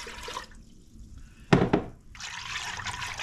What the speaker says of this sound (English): Now we're gonna add the rest of the water.